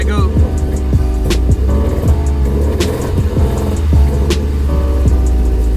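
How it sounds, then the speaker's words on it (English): A Nissan 240SX engine idles low and rough, then stumbles and bogs when the throttle is pressed, revving weakly as it nearly stalls, with someone talking over the close engine noise. "the second I hit the gas, you can hear it just dead stop"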